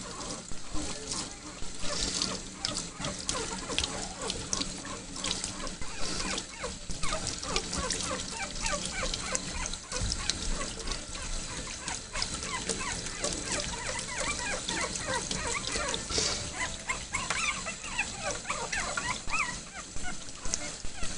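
A puppy whimpers and yips during a bath, its thin cries repeating over the steady wash of running water close by.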